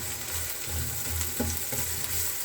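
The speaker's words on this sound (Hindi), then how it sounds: "अब हमने अपने ऑयल में सबसे पहले डाल दिया है लहसुन, और अब हम डाल रहे हैं इसमें अदरक, और लास्ट में हम डाल रहे हैं हरी मिर्च।" Garlic, ginger and green chili sauté in hot oil, giving a continuous soft sizzle with a few faint stirring scrapes, steady and close, with no talking.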